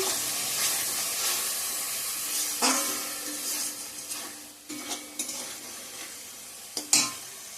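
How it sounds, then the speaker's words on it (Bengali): Ground spice paste fried in hot oil for a chicken and potato biryani, with steady close sizzling broken by repeated scraping strokes of a spatula against the pan, no talking. "পেস্ট করা মশলাটা কষিয়ে নিচ্ছি এখন"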